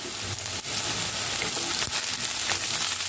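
Carrots and other vegetables hit hot oil with softened onions for Hakka noodles, giving a loud, continuous sizzle close by, broken by a few brief stirring scrapes.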